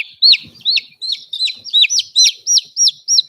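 Baby chicks kept with young laying hens and heavy-breed birds chirp in a steady run of about ten clear, high, close peeps repeating at an even pace, with no talk over them.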